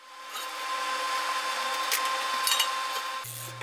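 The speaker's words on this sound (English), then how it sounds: "you remove that piece the same way" An angle grinder cutting through a steel beam flange for an anvil stand, a loud continuous grinding rasp with a few sharper surges, stopping near the end.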